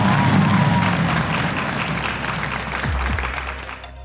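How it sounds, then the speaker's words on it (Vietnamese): A studio audience applauds on a children's quiz show, a broad, even roar of clapping that holds steady, with a low music or tonal bed underneath and a brief sweep near the end. "vỗ tay cho mình cái nha"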